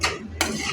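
Amaranth leaves are stirred in a frying pan: two quick spoon scrapes against the pan, close and crisp, over a steady low sizzle.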